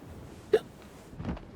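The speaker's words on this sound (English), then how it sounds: "Hiccup." A single sharp hiccup, near and abrupt, followed by a softer breathy sound a moment later in an otherwise quiet space.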